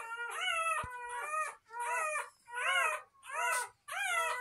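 Cane Corso puppy whimpering and howling in five or six drawn-out, wavering cries with short pauses between them, close and fairly loud, with no talk.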